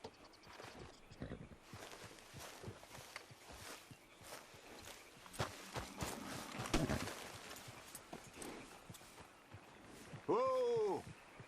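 Horse hooves walk in a steady clip-clop rhythm in Red Dead Redemption 2, moderately close, with people talking over them and a brief whinny-like call near the end.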